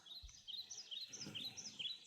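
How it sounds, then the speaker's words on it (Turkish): Soft, faint birdsong sleep sound played from Anker Soundcore Q35 earbuds, a chain of quick high chirps and tweets repeating steadily over a quiet background. "Bunu seçtiğinde kuş sesi."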